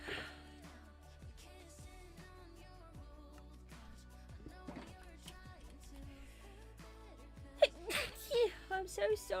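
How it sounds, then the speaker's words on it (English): A person sneezes near the end, a sharp burst followed by a few quieter breathy bursts, after a stretch of Minecraft game music with soft tones. "I'll go to sneeze again, I'm so sorry."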